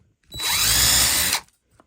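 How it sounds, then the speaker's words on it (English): A power drill bores a pilot hole straight down into wood, whirring for about one second at high speed, close and loud, then stops abruptly. "drill straight down, little pilot hole"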